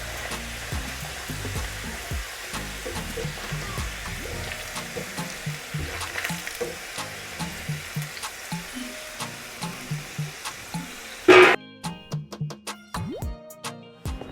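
Chak-chak dough pieces frying in hot oil give a steady, close bubbling sizzle with soft stirring clicks, then the frying cuts out near the end and gives way to a few brief clattering sounds.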